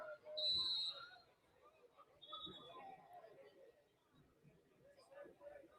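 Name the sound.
referee whistle blown during a football game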